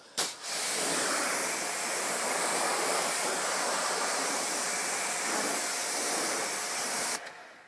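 Steady rushing hiss of a pressure-washer water spray rinsing off a PT Cruiser in snowy conditions, continuous and close for several seconds, starting and stopping abruptly, with no talking.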